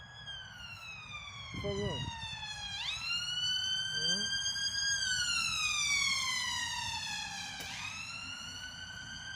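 A police siren wails in long rising and falling sweeps, fairly close, with a voice speaking briefly underneath.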